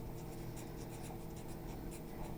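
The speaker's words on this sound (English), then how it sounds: "This will be posted on my YouTube channel, which I'm going to write right here." Marker or chalk scratching across a board in short strokes, quiet and close, with no voices over it.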